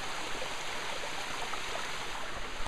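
A waterfall pours steadily along a foothills trail, a dense, continuous broadband rush heard up close from just behind the falling water, with no other sounds breaking through.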